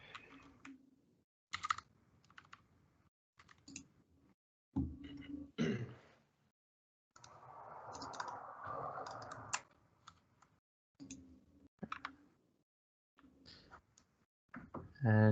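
Password being typed on a computer keyboard: bursts of quick, close keystroke clicks separated by pauses, with a stretch of brief rustling and a low throat-clearing sound partway through; no speech.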